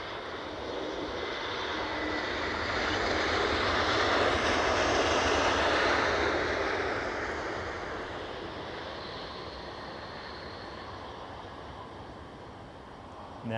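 A Turkish Airlines Airbus A321 jet roars past an airport, a broad, loud engine rumble that swells to a peak and then slowly fades as it recedes into the distance.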